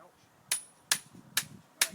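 A hammer drives a driveway arch upright into the ground: four sharp, ringing metallic blows about half a second apart, close by, over faint background voices.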